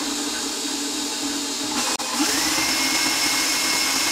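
An electric hand mixer creams half a cup of butter in a bowl, giving a steady, loud motor whir that stays even throughout, broken by one brief dropout near the middle.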